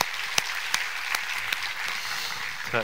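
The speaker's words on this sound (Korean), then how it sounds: "우리 하나님께 감사와 영광의 박수를 드리겠습니다" Congregation applause in a church after a sermon on Revelation, a steady wash of many hands clapping at moderate level with a few sharper individual claps standing out, no voices.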